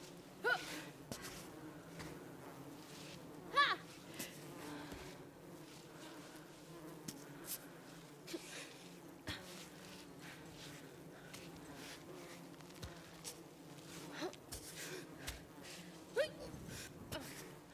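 Bees buzzing in the video game Cairn, a faint continuous drone under quiet gameplay with occasional short thumps and breathy grunts from the character.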